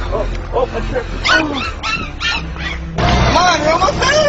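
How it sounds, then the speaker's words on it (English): A little puppy yips and whimpers in several short, high bursts close by, with people talking over and around it outdoors. "So cute, little puppy."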